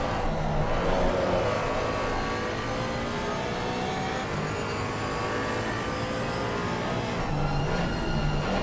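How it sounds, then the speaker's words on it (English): A Porsche Cayman race car engine roars steadily during a GT Europe race at Spa-Francorchamps, its pitch climbing and shifting as it accelerates, loud and up close the whole time. "You can hear that the roaring engine of the Porsche Cayman go through Lecombs now."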